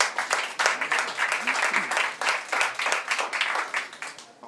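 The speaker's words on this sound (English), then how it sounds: "Let's make a round of applause to Rein Lemberpuu." Applause for Rein Lemberpuu at a Playtech startup discussion, a moderately loud round of clapping from a small audience, with individual claps audible and a little background voice.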